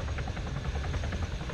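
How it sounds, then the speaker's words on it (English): A helicopter in a combat video game throbs with dense, continuous rotor chop and engine rumble, loud and close, with no speech. "Get in the chopper."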